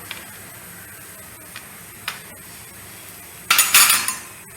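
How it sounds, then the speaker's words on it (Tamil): Iron kadai set down on a kitchen stove, a few light clinks and taps followed by a louder metallic clatter and scrape near the end. "இப்போ நான் ஒரு இரும்பு கடாயை அடுப்பில் வச்சுருக்கிறேன்"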